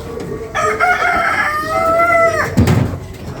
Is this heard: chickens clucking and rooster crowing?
yes